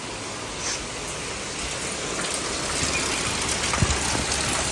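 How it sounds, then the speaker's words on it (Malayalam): Heavy rain pours steadily outside an open window during a power cut at home, a dense, even hiss holding at moderate level throughout with no voices. "നല്ല മഴ പെയ്യുന്നുണ്ട്"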